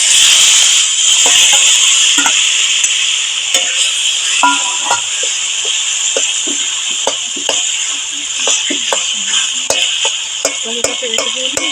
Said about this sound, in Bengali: এবারে আমি টমেটো আর বেগুন পোড়া দিয়ে দেবো।